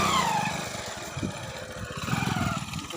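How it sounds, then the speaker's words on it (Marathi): A vehicle travels along a badly broken road, its engine a low, uneven rumble that rises and falls as it lurches over the rough surface, heard close with no talking. "हे बघा आता गाडी"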